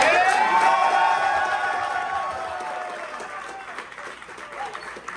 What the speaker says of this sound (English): can we just have another round of applause for us?